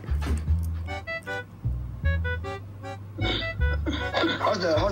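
Dogs bark and yip in short harmonic bursts, several in quick succession, close and fairly loud, with people talking and chuckling between and over them.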